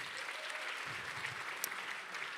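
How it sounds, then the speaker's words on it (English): Applause from an audience at a book launch, a soft, fairly distant patter of clapping that holds steady briefly. "And of course, a round of applause again for our amazing, esteemed guest speaker, Ms. CJ Mutunga"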